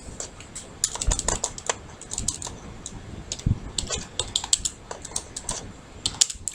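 Text is typed on a computer keyboard, with quick, close clicking keystrokes in uneven bursts and short pauses, heard on its own without talk.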